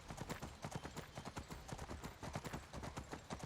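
Horse hooves clip-clopping at a steady trot in the video game Skyrim, an even, rapid rhythm of soft thuds carrying on throughout, moderately quiet with no talk over it.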